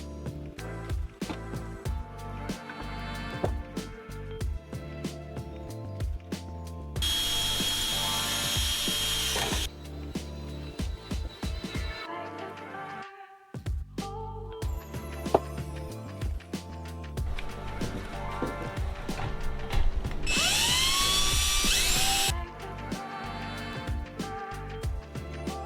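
A power drill bores holes in a Sonex aircraft main spar in several long, loud, close bursts, with whining spin-ups, brief pauses between holes and a near-silent gap midway.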